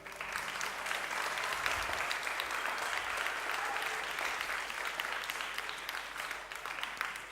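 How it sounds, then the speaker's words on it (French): Audience applause fills a church after a musical performance, steady dense clapping lasting throughout at moderate loudness, with no talking over it. "On peut l'applaudir."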